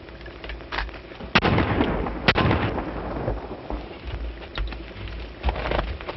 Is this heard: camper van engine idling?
no